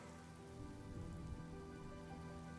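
Steady rain patters continuously on surfaces in the Honkai: Star Rail video game, a dense, even wash with a low sustained tonal hum underneath and no speech.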